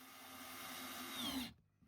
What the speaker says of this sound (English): I'm using the angled head on my Bosch drill driver to pre-drill and screw the middle panel into place